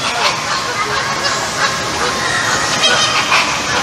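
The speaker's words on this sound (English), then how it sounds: "Whole lot of quacking going on" Ducks quack in a gift shop, a dense, loud, continuous chorus of honking calls filling the space with constant overlapping noise.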